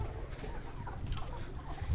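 Layer hens, 116-day-old pullets on a poultry farm, cluck and murmur softly in a continuous, fairly faint flock chatter with no one talking over it.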